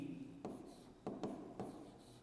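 Chalk or marker writing a math expression on a board during a Hindi math lesson, with three short faint taps and scratches spread over a quiet stretch.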